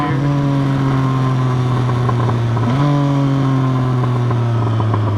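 Motorcycle running without an exhaust, a loud close rumbling drone held steady while riding, with a brief rise in revs partway through.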